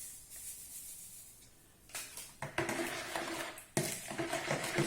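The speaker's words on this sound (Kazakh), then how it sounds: "Жақсылап араластырып аламыз." Dough mixture with dry yeast being stirred in a bowl, faint at first, then scraping and clacking strokes that grow louder, close up, irregular and without talk.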